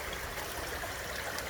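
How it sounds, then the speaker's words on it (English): Creek water flowing through thick, fern-filled vegetation on rural land near Manton, California: a steady, close, hissing rush and trickle without pause, no voices. "We got water there flowing that way"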